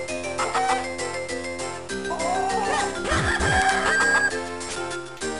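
Chicken clucking and crowing from Zelda: The Minish Cap on the Game Boy Advance, sounding over steady in-game music with a rising squawk in the middle of the short passage.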